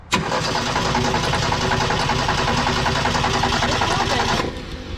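A 1972 Ford Pinto engine cranks and then catches, running at a loud, rough, steady roar close by for several seconds before cutting off abruptly near the end.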